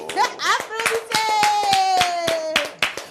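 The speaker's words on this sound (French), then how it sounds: "Applaudissez." An audience at a birthday celebration claps and applauds in a dense burst of hand claps, with a voice and other voices calling out over the clapping.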